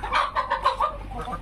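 Aseel hens roaming outdoors cluck in a quick series of short, close, moderately loud calls with no talk over them.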